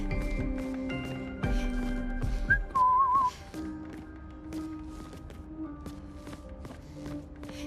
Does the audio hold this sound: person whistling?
yes